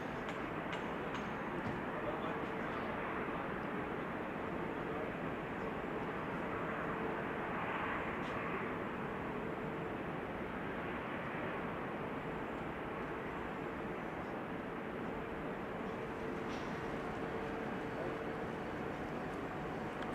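Airbus A320 on Flight 108 from Rome arrives at Amsterdam Schiphol Airport, its steady broadband jet roar filling the whole stretch at moderate distance with a faint tonal whine, no talk over it.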